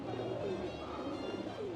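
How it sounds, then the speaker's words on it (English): Pigeons cooing in a pigeon park in Old San Juan, Puerto Rico, a soft low warble rising and falling a few times over steady outdoor background noise, fairly faint and with no talking. "I just stumbled upon this pigeon park."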